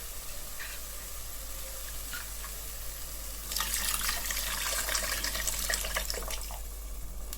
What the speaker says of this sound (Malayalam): ഇനി നമുക്കിതിലേക്ക് കുറച്ചുകൂടെ വെള്ളം ചേർത്ത് കൊടുക്കുക.